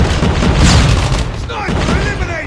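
A flashbang grenade goes off in the Call of Duty Mobile video game, a loud burst with a ringing tail, joined by in-game voice callouts and other match noise.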